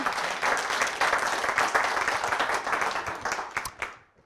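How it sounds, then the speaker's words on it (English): Conference audience applauding a speaker, dense clapping that holds steady for about four seconds and then thins into a few scattered claps before fading out. "Let's give her, an applause here."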